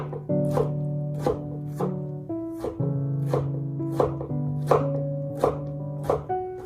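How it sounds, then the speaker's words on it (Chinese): A knife chops a tomato into small cubes on a board with about ten crisp, evenly paced strikes, heard over steady background music. "然后再把西红柿给它切成条， 最后再把它切成小方块就可以了"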